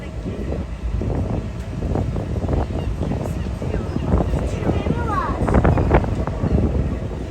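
Steady wind buffets the microphone with a low rumble throughout on a rocking ferry near Üsküdar pier, Istanbul, and muffled voices and motion noises come and go beneath it.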